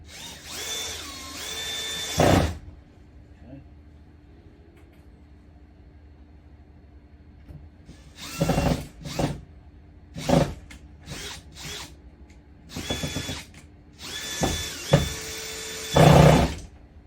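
A power drill drives screws while an RV lock is installed, giving loud, close whirring bursts of one to two seconds separated by quiet pauses, with several short spurts near the end.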